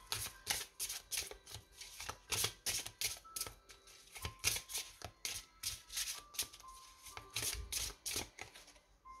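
A deck of flower oracle cards is shuffled, giving rapid bursts of papery riffling and slapping in an irregular rhythm, close and fairly quiet, with no voice.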